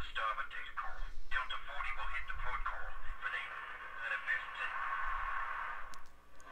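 Crackling radio static and hiss from a squad comm channel in Star Wars Republic Commando, steady over several seconds and mixed under voices.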